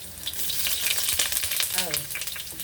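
Ginger sizzles and crackles in a hot pan for chicken adobo, a steady close frying hiss broken by stirring and occasional pops, with a voice briefly heard over it.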